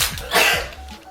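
One loud, close sneeze bursts out sharply and fades within a second.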